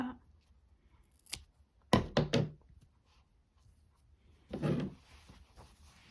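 Scissors snip through a crochet yarn tail on an amigurumi piece, a few quick close cuts in a quiet room.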